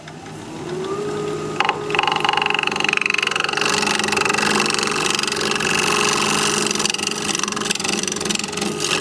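A wood turning tool is sharpened on a grinder, a steady whining drone that sharpens into a louder, brighter grinding hiss as the tool meets the wheel and holds there continuously.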